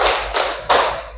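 Three sharp hand claps in a quick, evenly spaced sequence, close and loud, as a group claps along on cue in a classroom.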